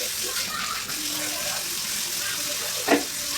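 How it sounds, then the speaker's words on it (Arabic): Water runs steadily from a tap over tomatoes being washed in a sink, a continuous hiss, with faint handling noises and a brief louder splash near the end. "هنغسل بقى الطماطم كده"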